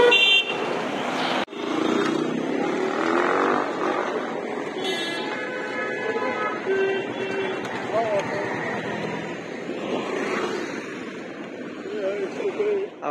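Busy street traffic with passing motorbikes and cars while crossing a road, with short horn toots and a voice talking over the steady roadside noise.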